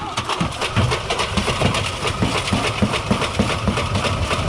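A washing machine loaded with drill steel and plastic trash spins up during a durability test, a loud continuous rumble with rhythmic banging and rattling of the metal inside the drum.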